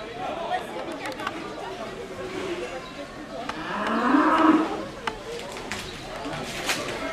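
At a lively cow auction, cattle moo over a crowd's chatter. One drawn-out moo rises clearly in the middle, set against a murmuring background and scattered knocks.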